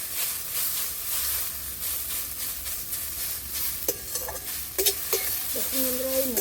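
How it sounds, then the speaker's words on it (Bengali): A mash of red lentils with egg and potato is stirred and turned in a hot pan, a steady close sizzle and scrape broken by a few sharper knocks of the utensil against the pan near the end. "দিয়ে আবার আমি নেড়ে চেড়ে নিচ্ছি।"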